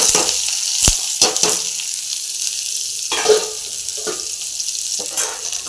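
Onions and bay leaves frying in hot oil, a close, steady sizzle with a few sharp pops and crackles scattered through it.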